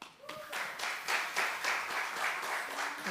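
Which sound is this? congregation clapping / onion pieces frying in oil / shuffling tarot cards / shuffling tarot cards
congregation clapping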